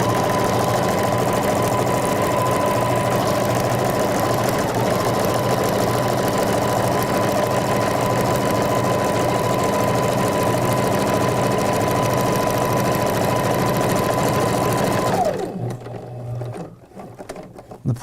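A sewing machine stitches a jacket with a loud, steady, close mechanical whir and fast needle rhythm that runs unbroken for about fifteen seconds, then winds down and stops, leaving a few faint handling sounds.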